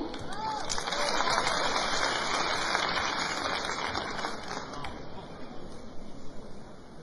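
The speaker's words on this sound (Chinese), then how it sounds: "感谢您的掌声鼓励" Audience applause at a crosstalk comedy show, a dense steady clatter of many hands that fills the hall throughout and thins slightly toward the end.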